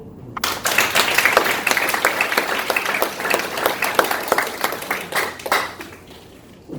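Sustained applause from a large audience, dense steady clapping that swells and holds for several seconds before tapering off.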